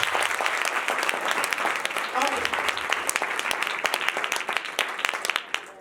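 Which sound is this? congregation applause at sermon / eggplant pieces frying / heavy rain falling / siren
congregation applause at sermon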